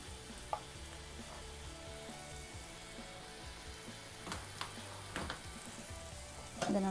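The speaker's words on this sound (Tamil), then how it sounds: "இதை உடச்சி விட்டு நல்லா மிக்ஸ் பண்ணி விட்டுறலாம்." Paneer masala on a street-style dosa pan sizzles steadily under a frying hiss, with occasional sharp metal spatula scrapes and taps as it is broken up and mixed, no talk.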